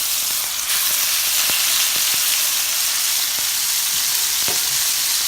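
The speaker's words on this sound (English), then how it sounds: "let's go ahead and put the chops in" Pork chops fry in smoking-hot oil in a skillet on high heat, a loud, continuous sizzle with small pops and crackles throughout.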